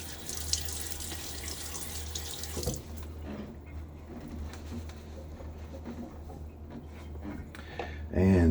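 Water splashed onto the face during a wet shave at a running sink, a bright rushing splash at the start that gives way to softer dripping and trickling, then a renewed burst of water at the end.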